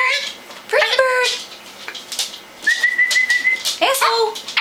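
A talking pet parrot gives clear whistles, rising and falling notes followed by a long steady tone, loud and close, between voices talking around it.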